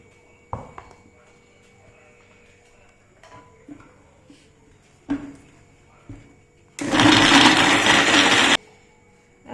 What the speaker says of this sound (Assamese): বিলাহীখিনি মিক্সিত মাৰি ল'ব লাগিব